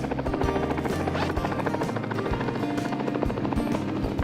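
A helicopter flies overhead while the listener is out on an airboat. Its rotor thuds and engine roar come loud and steady throughout, with a pulsing low-frequency beat and no talking.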